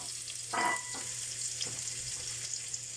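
Finely minced garlic frying in a pan, a soft, steady sizzle under a low hum, with a brief louder scrape of stirring near the start.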